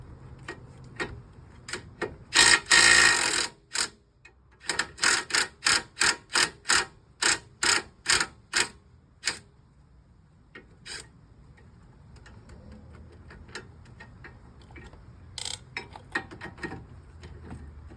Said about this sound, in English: pop these top two bolts off from the bottom of the strut